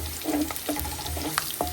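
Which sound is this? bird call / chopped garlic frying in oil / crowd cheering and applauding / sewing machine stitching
chopped garlic frying in oil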